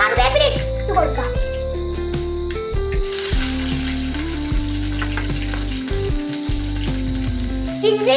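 Curry leaves hit hot oil for a guava pickle, giving a steady, fairly loud sizzle and crackle that runs throughout with a voice and background tones over it.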